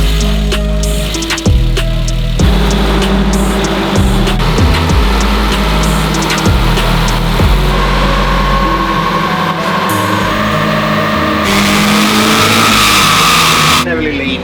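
A high-mileage Mercedes 190E engine revs hard and holds a loud, sustained drone while running on a rolling road, with voices talking over it.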